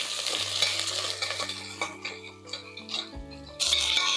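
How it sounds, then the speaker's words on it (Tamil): Onions with curry leaves and mint sauté in a pan, giving a soft sizzle broken by spoon scrapes and light clinks, with a steady low hum beneath and a brief louder burst of sizzle at the end. "இந்த அளவுக்கு நல்லா வதக்கிடலாம்"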